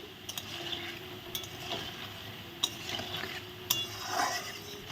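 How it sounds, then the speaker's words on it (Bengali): Banana flower koftas fry in oil with a soft, continuous sizzle. A few sharp clicks of a utensil against the pan come at intervals, and no one speaks. "এটুকু ভাজা হোক এই পাশটা"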